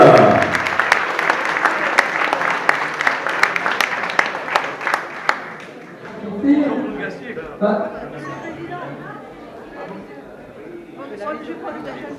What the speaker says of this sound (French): vos applaudissements pour ce podium